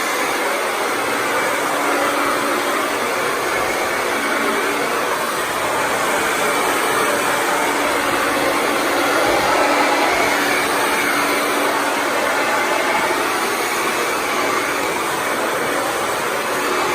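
A blow dryer runs steadily and loud on a six-month-old puppy, a continuous broadband whoosh that holds for the whole stretch without a break and with no talk over it.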